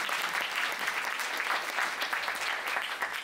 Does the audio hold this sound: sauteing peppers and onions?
no